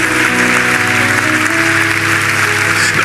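A church congregation fills the room with steady, loud applause and cheering for Jesus, a dense continuous roar of clapping with some music tones running underneath.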